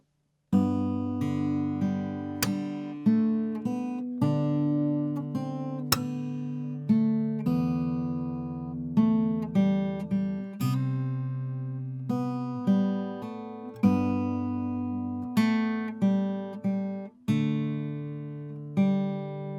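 Fingerstyle acoustic guitar plays a riff from a song: plucked single notes and chords ring out clearly and steadily, close and moderately loud, with no talking.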